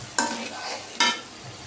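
Okra frying and being stirred in a pan, with a steady sizzle broken by two sharp scraping stir strokes close by, and no talking.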